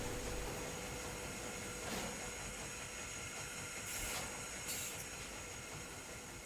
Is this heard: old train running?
yes